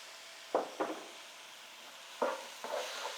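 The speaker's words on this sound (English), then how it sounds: "So now I'm going to add in some tomatoes." Tomatoes being added to a sizzling pan for bhaji arepas give four short bursts of sizzle and stirring, in two pairs over a low background hiss, close and moderately quiet.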